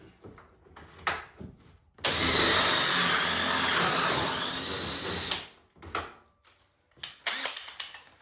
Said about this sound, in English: it comes with this one to actually drill the holes for the hinges